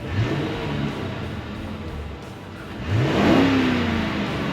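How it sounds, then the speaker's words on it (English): A golf cart's motor whirs past nearby, rising in pitch and loudness as it approaches, over quiet outdoor background. "Everybody with their golf carts is driving by"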